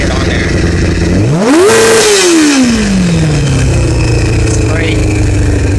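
Honda CBR600 motorcycle engine, just repaired after a vacuum leak, revs sharply once from idle to a high peak and then winds back down, loud and close.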